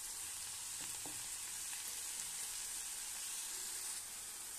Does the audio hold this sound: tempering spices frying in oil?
yes